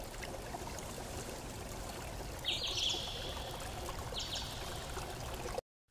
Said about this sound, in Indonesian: Air terjun tumpah mengalir dengan derasnya sungai yang sangat jernih.